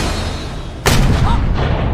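A single loud pistol gunshot goes off in a cave in a pirate film scene, a sharp crack after a low rumble, then a ringing echo that decays.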